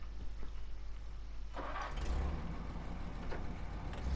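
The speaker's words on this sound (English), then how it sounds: "So we'll turn the engine on." A heavy truck's engine cranks and catches in the SnowRunner video game, a burst of starting noise followed by a steady low idle rumble that holds close and loud with no talking.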